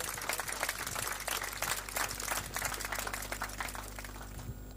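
An audience at a brand ambassador unveiling applauds a Nigerian singer with scattered, sharp claps over a steady low hum, moderately loud and fading slightly toward the end.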